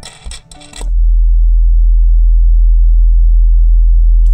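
A brief burst of handling noise gives way to a steady, loud low bass tone from a DIY powered subwoofer with a passive radiator, droning evenly for several seconds.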